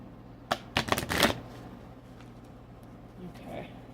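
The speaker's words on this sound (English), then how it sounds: "Okay, so I'm shuffling the cards." Playing cards are shuffled close up in a quiet room, a few quick riffling bursts clustered within a second, then near silence with faint stray rustles.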